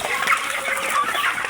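Broiler chickens, about 22 days old, cluck and squabble while crowding their feed pans, a busy continuous chorus of close, overlapping clucks and chirps with no voices.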